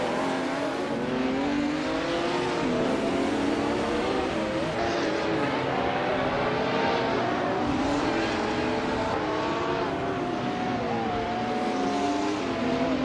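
Retro GT500 class race cars, a mix of classic and modern models, run on a tight Detroit street circuit, their engines droning and revving continuously at a moderate distance as the pack holds close.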